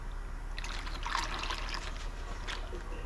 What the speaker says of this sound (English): Let's pour this out, see what's at the bottom of the pan.